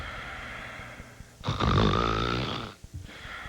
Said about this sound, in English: Does snoring wake you up every night?